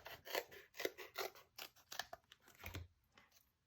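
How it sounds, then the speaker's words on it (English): Scissors snip through cardstock for a handmade card in a steady run of about a dozen crisp, close cuts, each a quick crunchy slice with short pauses between. "And then we'll cut another one for the top piece."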